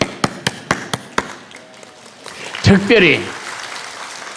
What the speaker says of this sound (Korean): 제가 여러분을 위해 박수 칠 테니까 가만히 계세요.